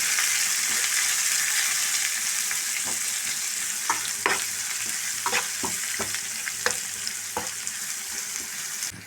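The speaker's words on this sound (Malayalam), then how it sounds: "വേപ്പില നന്നായിട്ട് മിക്സാക്കി നന്നായിട്ട് ഫ്രൈ ആക്കണം" Curry leaves, green chillies and onions fry in hot oil for a pork varattiyathu, giving a loud, steady sizzle with scattered scrapes and clicks of stirring throughout. No one talks.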